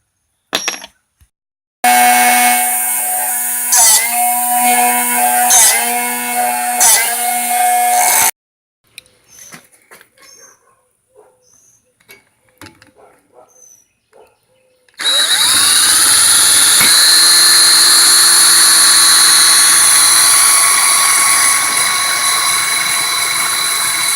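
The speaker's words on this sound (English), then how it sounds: "I gotta sharpen up this drill bit" A drill bit grinds against a sharpening wheel in short rasping bursts, then a quiet pause, then a long loud steady grinding whine.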